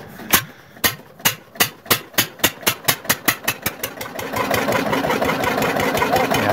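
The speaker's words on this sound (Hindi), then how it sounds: "देख सकते हैं मैंने इंजन फिट किया है पूरा, एक ही हैंडल में स्टार्ट हुआ है।" An old Lister Field Marshal 10HP diesel engine, hand-started, fires with slow, heavy knocking beats that quicken into a close, steady running clatter.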